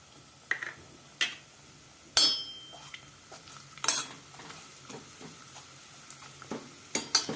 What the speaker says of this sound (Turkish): Evet yağımız, zeytinyağımız iyice yanmaya başladı. İçine şehriyemizi ekliyoruz.